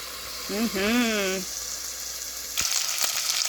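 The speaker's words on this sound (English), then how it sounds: "I put the other meat in that has the baking soda tenderizer, and we're just going to let that sear on the bottom" Beef treated with baking soda tenderizer sears in a hot pan for stew, giving a steady, close hiss of sizzling fat beneath a short stretch of talking, with a few crackles and pops near the end.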